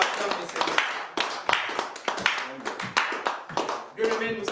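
A church congregation applauds to acclaim the Lord, with bursts of clapping in a quick, uneven rhythm and voices talking and calling out over it.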